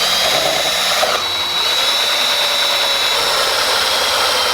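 A drill bores a hole through a carbon fiber front lip splitter on a BMW F30 M Sport, a loud steady high whine that dips briefly as the bit bites, then holds, close and alone.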